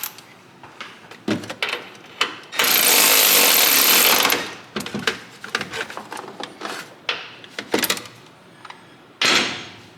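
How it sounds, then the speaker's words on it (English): Wrench work on bolts of a Ferrari 360 during a service, with sharp metallic clicks and clanks scattered throughout and a loud, sustained rasping burst in the middle and another near the end. "I need to snug the bolts ever so slightly with the wrench"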